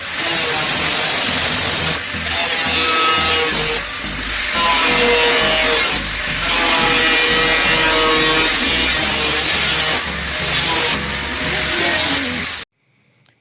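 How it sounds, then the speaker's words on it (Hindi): A handheld angle grinder cuts through a box lid while a mini cooler is being made, a loud continuous whine broken by short pauses, then it stops abruptly. "मार्किंग करने के बाद हम ग्राइंडर की सहायता से इसकी कंप्लीट कटिंग कर लेंगे।"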